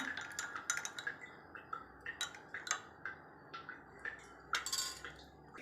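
A spoon stirring bottle gourd (surakkai) juice mixture in a container, giving a series of irregular light metallic clinks and taps, close and fairly quiet, with no talking.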